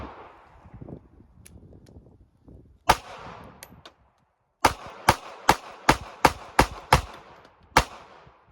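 A small Ruger LCP Max pistol firing while wet, muddy and gritty: one shot, a pause, then seven sharp, evenly spaced shots, loud and close, after some handling and scraping noises.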